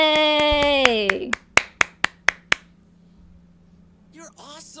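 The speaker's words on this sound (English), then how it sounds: "I'm clapping for you." A single person claps hands near the microphone, five sharp separate claps in an uneven rhythm, right after a stretch of speech, with talking starting again shortly after.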